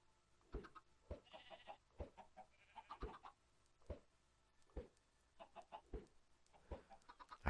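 Minecraft chickens cluck in short, repeated bursts at a steady uneven rhythm, soft and near, with faint higher squawks now and then and no voices.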